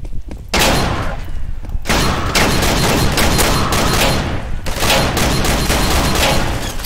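Gunfire in the Garry's Mod video game, a loud, dense burst of rapid shots filling the clip almost continuously after a brief quiet start, with a short gap midway.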